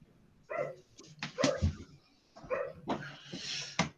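Several dogs bark near a garbage truck in an outdoor street setting, giving two clusters of sharp, moderately close barks and yips separated by short pauses, with no talk over them.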